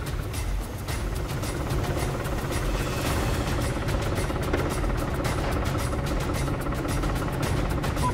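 A tractor engine runs in a low, steady drone, moderately loud and continuous with a faint vibrating texture, with no talk over it.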